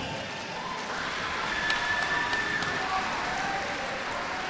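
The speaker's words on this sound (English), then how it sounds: "Applause for both fighters." Crowd applause for both fighters after a submission finish at the Barebones MMA Championship 7 event, a steady wash of clapping that holds for several seconds with crowd noise beneath.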